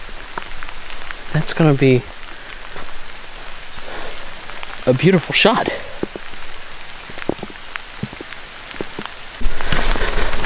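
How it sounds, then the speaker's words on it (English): Soft, steady rain patters outdoors while someone speaks briefly, and the downpour grows louder toward the end. "Funny enough, I wanted more rain, and here comes more."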